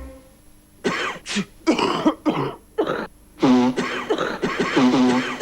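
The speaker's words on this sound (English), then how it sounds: "When you've got a nasty cough and you're feeling kind of rough" A person coughs in a cough medicine commercial, giving several harsh, close bursts separated by short gaps, with voiced, throaty sounds among them.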